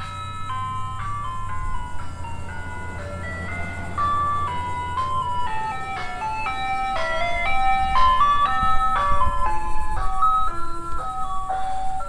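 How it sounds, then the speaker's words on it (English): A passing ice cream truck plays a loud, tinkling chime melody of bright repeating notes over a low vehicle engine rumble, swelling as it nears. "Oh, here comes the ice cream truck."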